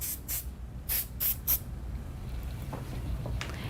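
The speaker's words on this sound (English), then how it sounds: "I am going to use this spray adhesive" Spray adhesive is sprayed onto a shirt to hold down an Olympics design: several short hissing bursts close by, then quiet room tone.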